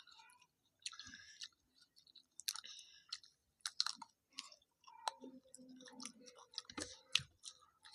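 Someone eating a whole raw pointed gourd (potol), with close, quiet, irregular crunchy bites and wet chewing clicks spread over several seconds.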